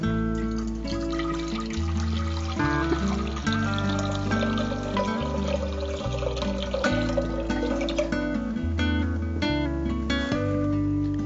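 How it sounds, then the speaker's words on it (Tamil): Water pouring into a cooking pot for a wheat kali and mutton dhal curry recipe, a steady close trickle lasting several seconds with musical tones playing underneath. "தண்ணி ஊத்திடலாம்"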